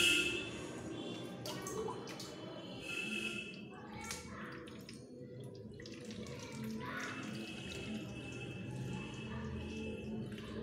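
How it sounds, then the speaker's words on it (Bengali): Water running into three empty bottles at home, a steady splashing pour that carries through the clip, with a voice and household chatter in the background. "এই 3টে বোতলে জলটা চট করে ভরে নিই"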